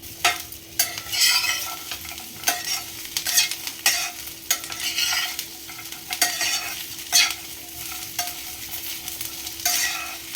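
Tomatoes and spices crackle in a hot oil tempering (phodni) for a seasonal chutney, with steady sizzling and repeated scraping stirs at a close, fairly loud level and no talk.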